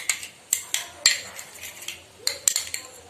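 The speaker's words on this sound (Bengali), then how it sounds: "দইটা একটু ফেটিয়ে নিচ্ছি ভালো করে।" A utensil clinking against a bowl while yogurt is whisked for chicken reshmi kabab, with a series of sharp, close metallic taps coming at an uneven rhythm and no talking.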